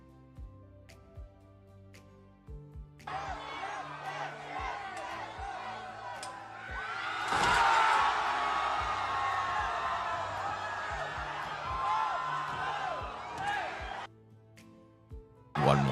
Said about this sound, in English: the moment that the crowd saw this particular thing, they went insane